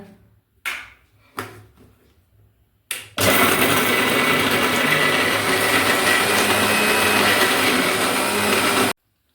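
A few clunks and knocks, then a mixer grinder grinding roasted peanut chutney with rock salt whirs loudly and steadily for several seconds before cutting off abruptly.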